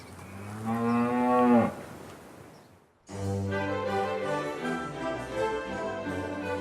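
A cow on a farm, an expectant mother due to calve, lets out a loud close moo, then after a brief pause a second long, sustained moo follows, heard alone with no talk.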